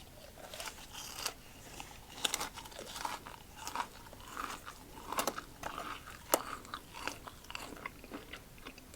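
Freeze-dried apple pieces crunched between the teeth, with repeated crisp, sharp bites and chewing crackles at close range in a steady, irregular rhythm, without any talking.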